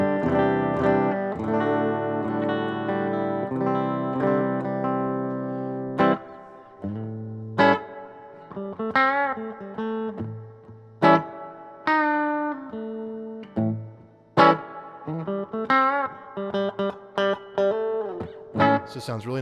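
Clean electric guitar, a Furious Jones Tele Jr played through a tube amp with volume and treble fully up, with a spacious, effected tone: sustained ringing chords at first, then a series of separate plucked notes and short phrases.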